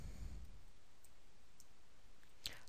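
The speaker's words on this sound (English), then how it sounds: "Highlight it by left-clicking on it" Faint, sparse clicks of a computer mouse against a quiet background hiss, with a brief sharper click near the end.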